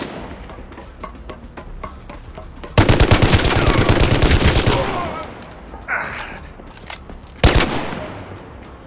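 Mechs in a video game unleash rapid machine-gun bursts, loud, dense rattling volleys that surge, fade into quieter shots, then erupt again in a short, sharp burst.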